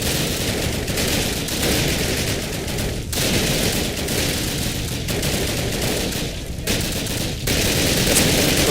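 Dense gunfire crackles throughout a bridge defense battle in Call of Duty, bursts of rapid automatic shots layered over booming background fire, loud and almost unbroken with brief lulls.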